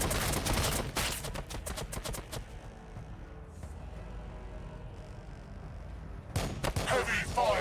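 Rapid bursts of machine gun fire crackle in a Warhammer 40k Battlesector battle, loud clustered volleys at the start and again near the end, with a quieter rumbling stretch between.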